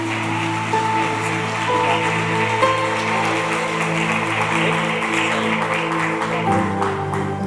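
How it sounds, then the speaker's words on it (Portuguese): A congregation applauds in church, giving a dense, steady wash of clapping that lasts throughout, with music sustained beneath it. "Aplauda o Senhor Jesus pela vida da Aline."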